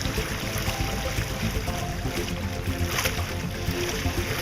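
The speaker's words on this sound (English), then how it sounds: "We actually got a bow wave now." Water rushes and splashes along the hull of a sailboat as the bow wave builds under freshening wind, a steady, close, broadband wash with faint voices mixed in.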